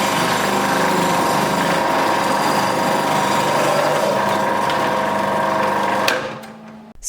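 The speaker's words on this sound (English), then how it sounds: "First, we are using the 4mm grating disc. We are grating a celery stalk." A Magimix food processor grates a celery stalk through a 4mm grating disc, giving a loud, steady motor whir with a gritty cutting buzz that cuts off abruptly near the end.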